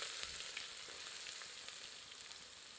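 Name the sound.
onions frying with whole spices in oil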